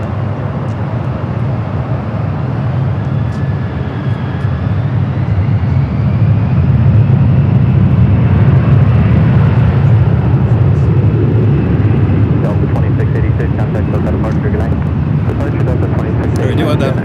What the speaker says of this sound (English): We're doing the American at 777-300ER heading to London Heathrow.